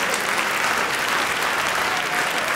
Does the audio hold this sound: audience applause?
yes